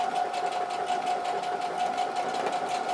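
A sewing machine with a roller foot stitches through plastic encasing confetti, a steady rapid mechanical whir with an even rhythmic pulse, close and continuous.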